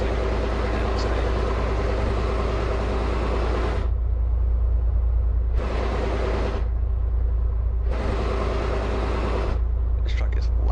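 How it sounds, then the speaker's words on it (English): A truck's idling engine heard from outside the cab in a modded truck-driving simulator: a loud, steady low rumble with hissing broadband noise that cuts in and out in long stretches. "This is what the truck sounds like from the outside."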